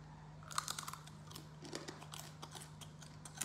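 Close, crisp crunching from chewing a large fried rainforest scorpion, a quick cluster of sharp cracks followed by scattered softer crunches over a steady low hum.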